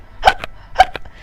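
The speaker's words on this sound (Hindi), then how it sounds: "बच्चा बहुत बार हिचकी लेने लगता है और लेते ही रहता है" A baby hiccuping, two sharp short hiccups about half a second apart, each followed by a softer little catch of breath, close and fairly loud with no talking.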